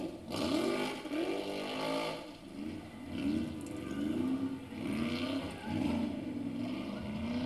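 Two stock off-road buggies, one blue and one red, race up a hill, their engines revving hard in repeated rising surges, loud and continuous throughout.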